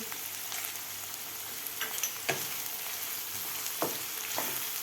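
Tomato and capsicum sautéing in a pan for paneer bhurji, a continuous soft sizzle with several sharp scrapes and taps of a spatula at irregular intervals, faint and close.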